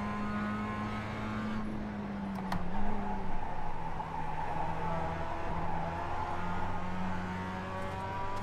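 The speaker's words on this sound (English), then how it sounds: "Somebody bumped me coming out of one of the turns, the last turn, actually, and just spun me right around." Mazda MX-5 Cup race car spinning out after a bump on the last turn at Summit Point Jefferson Reverse, a tight track: steady close engine drone with tonal shifts and a brief thump, rough and continuous throughout.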